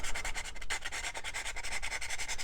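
Sanding to round off a glued-in dowel on the balsa top hatch of a Balsa USA Smoothie RC plane kit: quick repeated scratchy back-and-forth strokes, close and steady, with no voices.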